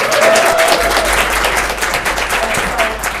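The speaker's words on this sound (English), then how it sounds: "So let's give her a round of applause." Steady applause fills a county board of commissioners meeting, a dense wash of many hands clapping continuously at close range, with a few voices and cheers mixed in under it.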